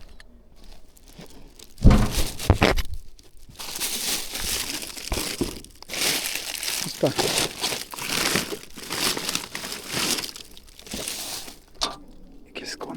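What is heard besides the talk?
crumpling wrapping paper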